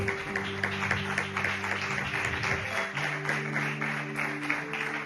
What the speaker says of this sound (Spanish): Un aplauso para el Señor, por favor.